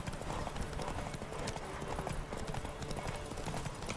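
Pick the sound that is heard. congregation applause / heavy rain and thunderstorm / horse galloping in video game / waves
horse galloping in video game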